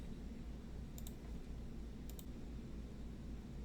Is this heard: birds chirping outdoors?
no